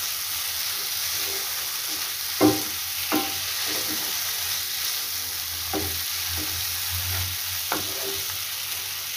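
A potato and leftover pakora curry simmers in a pan with a low, steady sizzle and hiss, broken by a few distinct stirring knocks and scrapes.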